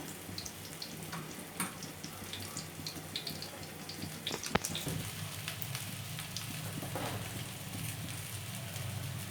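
Batter-coated stuffed pointed gourd fries in a little oil, giving a steady, rain-like hiss that runs evenly through the whole stretch with a few faint pops and no voices.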